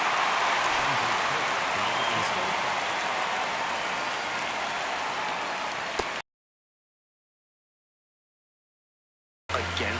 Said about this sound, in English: the way this rain is coming down